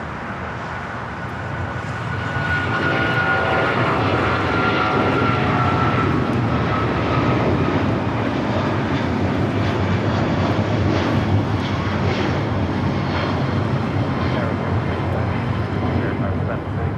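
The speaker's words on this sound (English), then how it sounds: "Next takeoff is American Airlines 274, taking off to JFK on the" An American Airlines Boeing 777-200ER roars steadily down the runway on takeoff from LAX, its heavy jet engine noise sustained and loud, with a voice talking over it.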